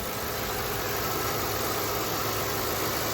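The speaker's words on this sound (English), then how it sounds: "The car's all back and running." A repaired car engine idles steadily with a dense, continuous rumble and faint vibration, running unchanged throughout with no voices.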